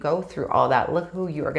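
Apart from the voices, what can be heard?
No everyday noise stands out behind the speech.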